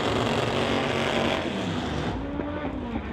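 An Austin drag racing car running rough down the track, a loud continuous engine roar that drops off toward the end, heard close with no talk.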